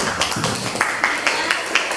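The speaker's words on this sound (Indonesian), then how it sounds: "Tepuk tangan dulu buat kelompok ini." A class of students claps for a classmate group after their herbarium presentation, a short burst of light, uneven hand claps close by with a rhythmic patter.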